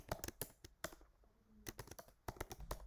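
Quiet, close typing on a computer keyboard, quick clusters of key clicks with a brief pause in the middle.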